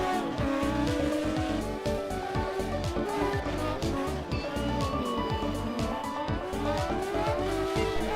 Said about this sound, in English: Rusinek loses traction at the exit of turn 19, which gave Philippus clear space to overtak